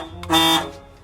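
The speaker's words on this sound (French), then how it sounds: "Un klaxon." A car horn gives a single short, loud honk close by, rising out of a faint background hum.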